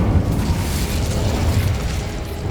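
Incendio fire spell cast in Hogwarts Legacy, a steady low roaring burst of flame that rumbles loudly and continuously for a couple of seconds, with no voice over it.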